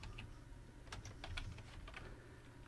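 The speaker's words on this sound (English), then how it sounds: "I'm going to type body." Light keystrokes on a computer keyboard tap out a short word in a quick, faint burst of a few clicks, close by and otherwise quiet.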